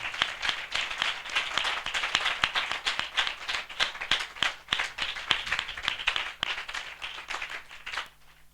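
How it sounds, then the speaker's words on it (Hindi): A church congregation at a Hindi spiritual gathering claps loudly in welcome. The dense, continuous applause from many hands runs for about eight seconds and then thins out at the end. "हम जोरदार ताली से उनका स्वागत करें"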